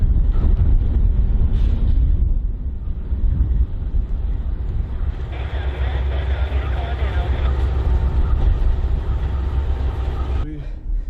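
Several Norfolk Southern diesel locomotives coupled to a long freight train power up in a rail yard, a deep, steady engine rumble building and holding close by, with wind buffeting the microphone and no talk.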